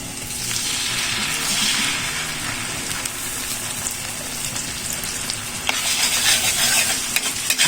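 Hot sauce hitting a hot pan while cooking buffalo wings gives a steady, close sizzle with stirring and scraping throughout, swelling louder toward the end.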